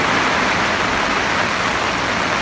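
Heavy rain pouring over the Mekong River, a dense, steady hiss of downpour filling the scene, loud and close with no voices.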